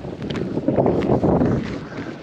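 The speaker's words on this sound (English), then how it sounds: "A little bit windy." Gusty wind at a lake buffets the microphone in low, rumbling surges, loud and close, with no voices.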